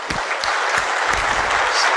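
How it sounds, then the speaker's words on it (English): Applause for volunteers rises from a keynote audience at a security conference, a dense and fairly loud wash of clapping throughout with no pauses. "I'm going to ask you for one more round of applause for all the volunteers here today."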